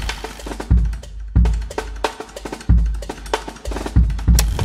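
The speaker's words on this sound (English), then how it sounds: "Or really weird random objects on your drums like this." Drums with odd random objects placed on them, struck in an uneven pattern of heavy low thumps and rattly, clattering hits, close and loud over a droning musical backdrop.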